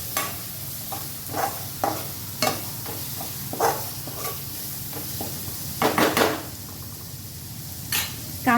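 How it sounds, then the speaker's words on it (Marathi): Chopped onion is sautéed in a pan, with a steady sizzle under repeated scraping strokes of a spoon and occasional metallic knocks against the pan. "तो कांदा आता मी यात घालते आणि कांदाही व्यवस्थित परतून घ्यायचा"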